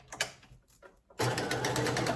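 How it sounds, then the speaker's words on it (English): A sewing machine stitches curtain fabric, its steady motor hum and rapid needle chatter starting abruptly after a second of quieter handling noises and running continuously and close up. "welcome to my sewing machine"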